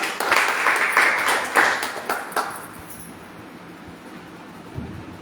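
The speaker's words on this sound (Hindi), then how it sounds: "तो एल्टॉस के लिए एक बार जोरदार तालियां" An audience at an Altos MLM business presentation claps loudly for a couple of seconds before the applause tapers off into quiet room noise.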